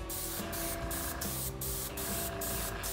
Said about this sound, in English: now we're gonna start spraying some of this in here.